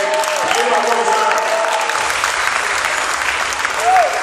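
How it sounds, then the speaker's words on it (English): A crowd claps loudly for a man being presented with a $10,000 cheque, dense continuous applause sustained throughout with a few voices and whistles rising above the clapping. "Big clap for him."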